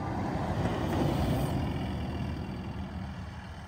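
Manually swapped Scania R650 truck rolling down a cold road, a low, heavy engine rumble swelling as it nears and then slowly fading away, with no talk over it.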